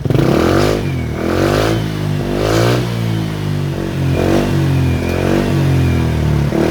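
A Suzuki Skydrive 125 motorcycle with a replaced regulator is revved repeatedly close up, its engine rising and falling in about five loud, buzzing throttle blips with a rough clattering idle between them.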